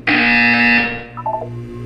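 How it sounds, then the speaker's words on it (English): A loud harsh buzzer from the Portal 2 video game sounds alone for about a second, then cuts off, followed by a few fainter electronic tones over a low hum. "You will hear a buzzer. When you hear the buzzer, look up at the ceiling."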